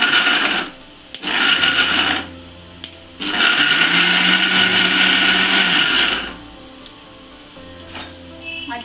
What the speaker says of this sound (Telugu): మనం దీన్ని కోర్స్గా గ్రైండ్ చేసుకున్నాం, మరి పేస్ట్ అయిపోవద్దు